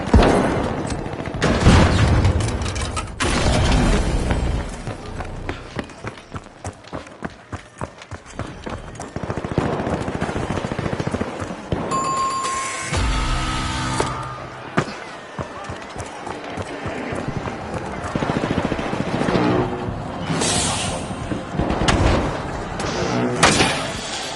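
Repeated grenade blasts and gunfire from The Finals, an arena shooter game, thump and crackle through a busy, dense mix of explosions and action noise with no pauses.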